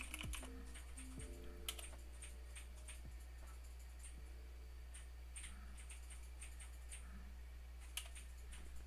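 Typing on a computer keyboard while configuring a Cisco switch, with steady irregular key clicks and a few louder strokes over a constant low electrical hum. No one speaks.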